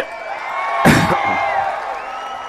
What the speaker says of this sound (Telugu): ఆపలేవని గట్టిగా చప్పట్లు కూడా చెప్పండి.